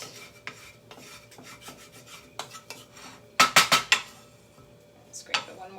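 A spatula scrapes dry scrambled eggs around a metal pan, making a series of sharp rasping strokes with a loud cluster of scrapes partway through and softer scuffs and clinks around them.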